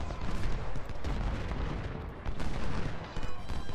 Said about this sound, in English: Akbar, you're gonna get over here and start shooting into the flanks